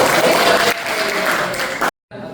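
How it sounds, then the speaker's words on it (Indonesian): Audience applause at an Indonesian training session, a dense burst of clapping that fills the room loudly, pauses briefly, then resumes before cutting off. "Oke, tepuk tangan dulu semua."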